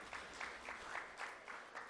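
Audience at a youth and senior assembly debate session applauds the head judge, a steady patter of many hands clapping with soft rhythmic swells, moderately distant and without talk.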